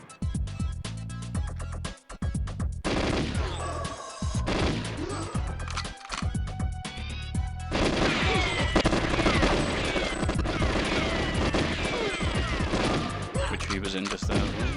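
Enemy gunfire from the N64 game GoldenEye 007 rattles in dense, rapid bursts, with sustained automatic fire and crashing impacts loud throughout.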